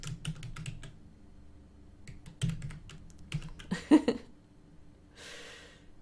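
Keys on a computer keyboard are tapped in quick irregular clusters, close and fairly quiet, with breathing and a gasp-like sound partway through.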